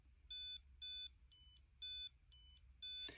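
Raspberry Pi Pico W smart clock sounding its alarm through a small speaker: six evenly spaced electronic beep bursts, each about a quarter second long, fairly quiet and heard alone.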